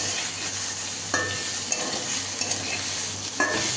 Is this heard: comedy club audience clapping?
no